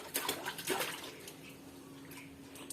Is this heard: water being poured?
yes